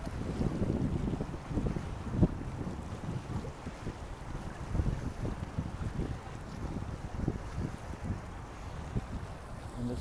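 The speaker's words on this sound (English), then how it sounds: "I don't know if you can hear the sound of the water lapping up against the dock here" Low, irregular sloshing of water lapping against a dock in Lower Manhattan, soft uneven splashes repeating every second or so beneath light wind rumble on the microphone.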